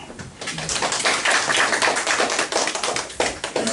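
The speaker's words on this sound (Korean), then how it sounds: "박수로 맞아주시기 바랍니다" Applause from a breakfast seminar audience on the energy industry as a professor is welcomed to the stage, dense overlapping clapping that swells quickly and holds steady at a fairly loud level for several seconds.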